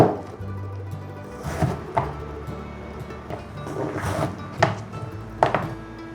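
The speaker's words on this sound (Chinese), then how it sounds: "把丝瓜对半切，再对半切，把丝瓜切片" Knife slicing halved luffa on a cutting board, several separate chopping thunks at uneven intervals over soft background music, close and moderately loud.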